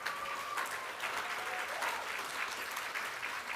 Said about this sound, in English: Let's give yourself another round of applause